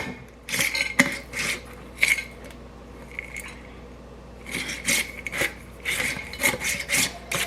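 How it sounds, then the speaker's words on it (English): A lid is twisted tightly onto a jar of homemade granola, producing several short scraping, grinding turns in quick bursts, close and crisp, with quiet pauses between the twists. "Get my lid on there good and tight."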